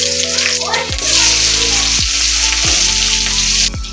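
Chilies tossed into hot oil in a pan of tangra fish curry, giving a loud steady sizzle broken by a few sharp bursts as pieces drop in; a voice speaks over the frying.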